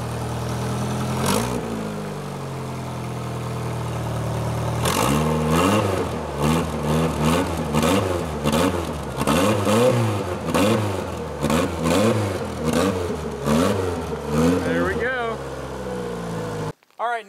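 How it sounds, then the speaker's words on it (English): A 1992 Foxbody convertible with a four-cylinder engine cranks, then fires up after a second try and revs in a quick series of rising and falling pulls before cutting off at the end. "go ahead and start her up. See what four cylinders of fury sound like"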